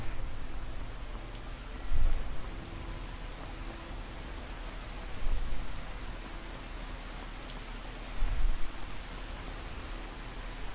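Steady rainfall in the video game Skyrim, a continuous dense hiss with a few brief louder swells, no voices.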